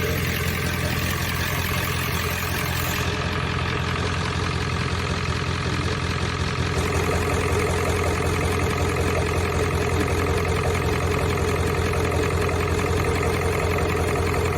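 A 7.3L Powerstroke diesel engine idles close by with a steady, unbroken low rumble and clatter that holds evenly for the whole stretch.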